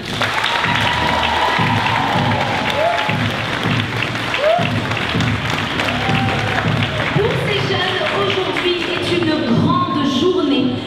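Theatre audience applauding at an improv theatre tournament at Chaillot Théâtre National de la Danse, a dense steady roar of clapping with crowd noise, continuous and loud throughout, while a voice talks over it.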